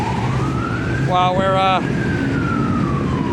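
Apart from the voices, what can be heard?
siren of a police car or ambulance driving by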